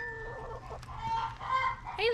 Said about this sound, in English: I can hear they're making their egg song